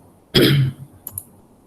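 A single loud, close cough from a teacher during an online science lesson for grade 7, one harsh burst lasting about half a second, followed by a couple of faint short sounds.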